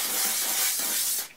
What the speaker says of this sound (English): I'm going to put this Kerastase VIP Volume and Powder Spray on it